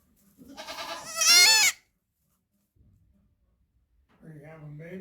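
Baby goats bleat in a barn, a loud run of wavering cries up close, then a pause and another bleat starting near the end.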